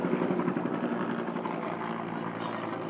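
A helicopter flies over Baltimore, its steady, loud rotor drone and rumbling engine filling the whole span with continuous low thrum and no pause.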